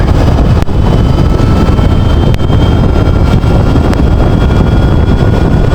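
Wind roars in a steady, loud broadband blast around an Ultraviolette F77 electric motorcycle ridden at full throttle at about 130, with a few brief buffeting dips but no voices.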